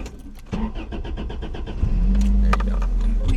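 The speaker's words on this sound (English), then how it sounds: "Make sure you're in neutral and start it again." A cheap used manual-transmission car cranks and restarts after stalling, the starter whirring briefly before the engine catches into a steady close idle, with small clicks and rustles inside the cabin beforehand.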